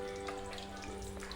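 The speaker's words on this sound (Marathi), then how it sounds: "वडी टाकून घेते आणि लो टू मीडियम या फ्लेमवर आपण तळून घेणार आहोत" Aaluwadi pieces fry in oil over a low to medium flame, giving a faint, continuous bubbling sizzle alongside a low steady hum.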